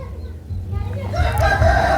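A large-breed rooster about two years old with long spurs crows over a low rumbling background, the call rising and swelling toward the end, fairly near and loud.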